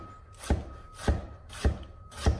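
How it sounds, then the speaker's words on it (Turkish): A knife dicing peeled tomato into cubes on a cutting board, with four evenly spaced, crisp chops close by and a soft background hum between them. "Bir domatesin yarısını böldüm, kabuğunu çıkardım ve bunları küp küp doğruyorum"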